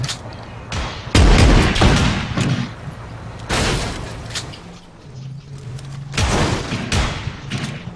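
Repeated shotgun blasts in PUBG during a shotguns-only event, loud booming shots in bursts with a few gaps, mixed with game noise and brief talk.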